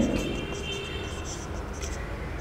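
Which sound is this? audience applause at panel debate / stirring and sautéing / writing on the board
writing on the board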